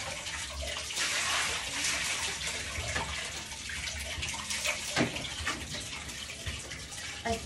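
Tap water runs steadily into a container until it is full, a continuous broadband gush with a few splashy surges and no voices over it.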